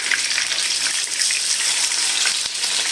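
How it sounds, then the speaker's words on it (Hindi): Egg kofta frying in hot oil, a dense, loud, continuous crackling sizzle that stays steady throughout with no talking. "हम इसको आहिस्ता आहिस्ता पलट के इसको सारी साइड से फ्राई कर लेंगे।"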